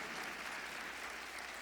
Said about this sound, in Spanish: Denle un aplauso al Señor por esos intercesores.